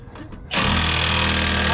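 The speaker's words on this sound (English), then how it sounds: "coming through with the power tools" A power tool kicks in abruptly and runs loud and steady, a dense broadband whine and rattle, while working on a 1973 Chevy Suburban with a 454 engine that sat for 23 years.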